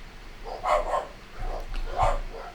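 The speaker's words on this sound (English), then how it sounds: "Barking." A dog barks close by: two short bursts of barking roughly a second apart, each made of a couple of quick yaps, over a quiet background.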